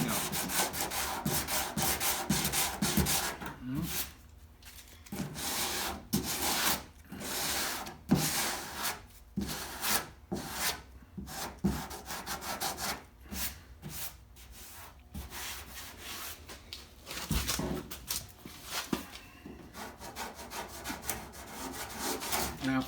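Bondo body filler being hand-sanded on a 1965 Comet, heard as a steady run of close, raspy back-and-forth strokes with brief pauses between bursts and no talking.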